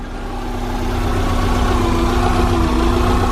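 Volkswagen Vanagon with a swapped-in Subaru engine running somewhat rough, a steady close idle with a low rumble and a constant whine, no talk.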